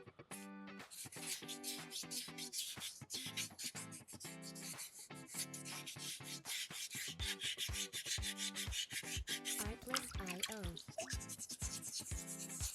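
Sandpaper rubs over a soapstone skull carving in quick rasping strokes, close and fairly quiet, with scratchy repeated passes that speed up and cluster toward the end.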